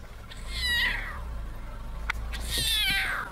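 A lion cub gives two drawn-out, cat-like meowing cries, close and clear, separated by a short pause.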